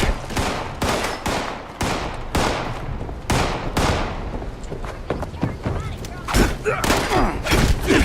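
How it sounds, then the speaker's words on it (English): Heavy gunfire in the post-apocalyptic game Fallout 76, with rapid overlapping bursts and booming shots almost all the way through. It is loud and dense, with a few voices mixed in under the shooting. "But the guns are certainly blazing."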